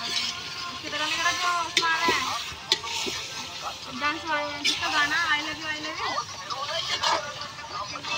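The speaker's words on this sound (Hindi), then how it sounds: "ये हम चमचा चला रहे हैं गाइस, देखिए चिकन डालने के बाद।" A spoon stirs chicken frying in a kadhai, a loud hissing sizzle with scraping strokes and occasional metal clinks, while someone talks over it throughout.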